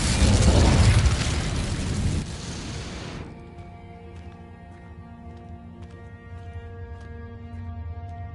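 The Incendio fire spell in the video game Hogwarts Legacy bursts out as a loud, roaring whoosh that lasts about three seconds, then cuts off into a quiet, ringing musical tail.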